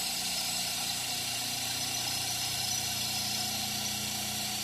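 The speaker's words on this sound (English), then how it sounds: "This motor has ceramic bearings in it. It's a 1/3 horsepower Marathon." A 1/3 horsepower Marathon electric motor with ceramic bearings runs steadily in a workshop, a constant loud whirring hum with a smooth tonal drone and no breaks.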